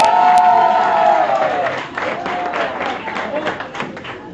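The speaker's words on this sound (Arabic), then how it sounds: "دونك تصفيقة كبيرة على حاتم قروي" A live audience at a Tunisian slam poetry event applauds poet Hatem Karoui, a dense wash of clapping that fades gradually while a voice speaks over it.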